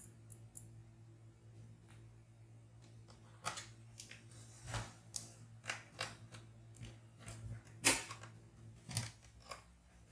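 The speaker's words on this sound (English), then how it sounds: "we're just going to screw it down to secure it on there" Small screws are driven in to fasten a laptop display bracket during a screen repair. Faint, quiet ticks and clicks come in irregular bursts, with a few sharper snaps over a low background hum.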